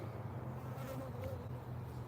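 Faint, steady buzzing of honey bees around a hive, low and continuous, with a soft background hum and no voices.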